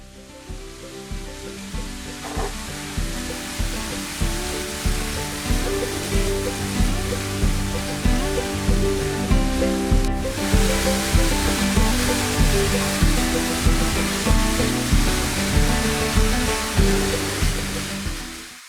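A waterfall and the stream below it, heard from a balcony at a Hmong hill tribe site near Chiang Mai, give a loud, steady rush of water that runs unbroken throughout with no voices.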